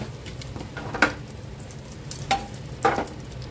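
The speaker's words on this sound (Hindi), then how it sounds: "इसमें भी करी लीव ऐड करेंगे और इसके साथ ही हम इसमें दोनों में थोड़ी थोड़ी हींग भी ऐड करेंगे" Curry leaves and a pinch of asafoetida sizzle in a little hot oil for instant handvo, a soft steady frying hiss broken by three sharp crackling spurts.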